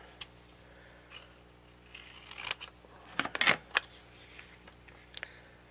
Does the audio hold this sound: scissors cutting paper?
yes